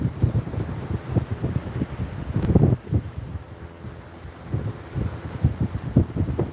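Wind gusts buffet the microphone on a beach at Fort Clinch during shore fishing, a loud, uneven low rumble with bursts that swell and fade, no voices.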